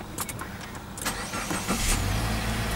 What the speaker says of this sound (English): Just going to start the engine for you